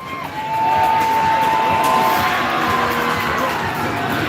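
A crowd cheers loudly at a junior hockey game after Delano scores a goal. The cheering swells suddenly and holds as one sustained wash of voices, and a long steady horn-like tone runs underneath it.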